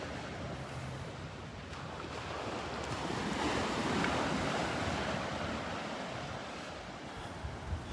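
Ocean waves wash onto the beach at Delnor-Wiggins in a steady roaring surf that swells and eases, with heavy wind buffeting the microphone throughout.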